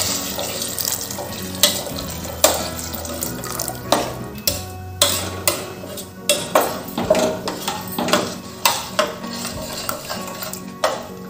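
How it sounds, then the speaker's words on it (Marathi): Hot water pours into a pot of dal and rice khichdi, a continuous splashing stream joined by ladle knocks and clinks against the pot, near and moderately loud, with no one speaking. "गरम केलेले 3 वाट्या पाणी टाकून घेते आहे"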